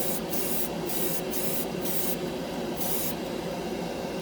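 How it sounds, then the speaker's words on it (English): An airbrush sprays Mr. Color lacquer paint over a gray base in a steady, close hiss that runs without a break, with brief brighter bursts as the trigger is worked. "Look how good this stuff sprays and how fast."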